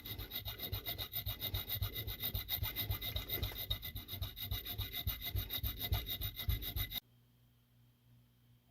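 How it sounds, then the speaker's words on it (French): A small hand file rasps back and forth on metal while the inside of a coin is cut out to form a ring, close and steady rhythmic strokes for about seven seconds before stopping. "à l'aide d'une lime, il va falloir enlever tout ce qu'il y a à l'intérieur du cercle noir"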